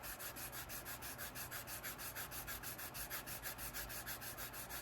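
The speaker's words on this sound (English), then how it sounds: "we're going to go ahead and give this a light sand" Light, even sanding strokes on a leather trifold wallet piece, a steady rhythmic rasp of about five or six strokes per second, close and alone with no talk.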